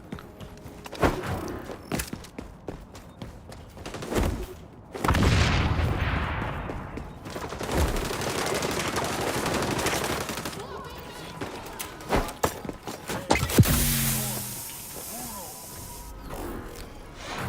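Gunfire in a fast-paced shooter video game, with bursts of rapid shots and heavy blasts scattered across the clip, some loud and close, mixed with movement and effects noise.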